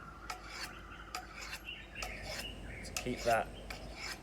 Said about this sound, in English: I'm going to be getting my sharpening steel in there, and I'm going to be going away along the blade